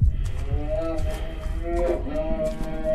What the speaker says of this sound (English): There's like a dying cow on the other side.